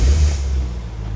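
A 2003 Corvette 50th anniversary edition V8 catches and rumbles up close, a deep loud low-frequency roar that eases slightly into a steady idle.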